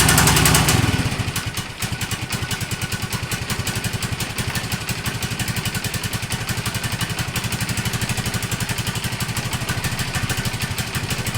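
A 1986 Honda TLR200 trials motorcycle idles with its choke up, a steady close thumping single-cylinder rhythm after a brief louder rev at the start, running alone with no talk.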